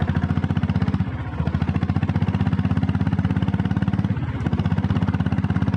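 A red Royal Enfield Bullet Deluxe self-start diesel motorcycle idles close by with a loud, steady, rapid thumping pulse that dips briefly twice.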